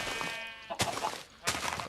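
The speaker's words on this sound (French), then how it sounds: "là où je suis, il y a plein de moutons" Minecraft sheep bleating, a drawn-out bleat followed by two more short bleats, fairly faint with no talking.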